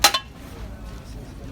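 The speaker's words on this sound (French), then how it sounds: "Prenez des poêles, des casseroles, faites du bruit, comme je le fais là." Pots and pans are banged together twice in quick clanging strikes, close and loud, then fade into a quiet room.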